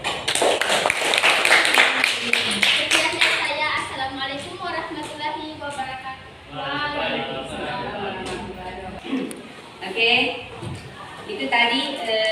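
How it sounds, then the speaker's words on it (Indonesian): A class breaks into applause after a student presentation. The clapping is dense and most vigorous at the start, then thins out under chatter and voices. "Oke, aplaus dulu."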